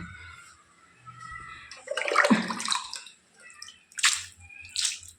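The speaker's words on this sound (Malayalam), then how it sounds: "ഇതിൽ വെള്ളം ഒഴിച്ച് കൊടുക്കട്ടെ" Water is poured onto a shiny new kitchen surface, giving a close splashing, trickling burst in the middle followed by two shorter pours, with no talk over it.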